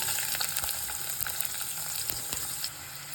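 Cumin, mustard seeds and onion sizzle and fry steadily in hot oil for North Karnataka style kadi palya, a dense continuous crackle with occasional stirring clinks, no talking.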